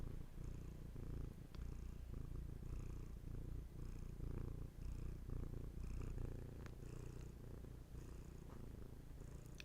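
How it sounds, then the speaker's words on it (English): A cat purrs steadily and softly up close, a low rhythmic rumble with regular breaths that continues for about ten seconds, with no voices. "Let Hattie's purrs bring you back."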